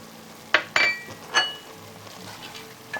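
Onion with almonds and pistachios being sautéed in a pan, a soft steady sizzle broken by several sharp metallic clinks and scrapes of a spoon against the pan.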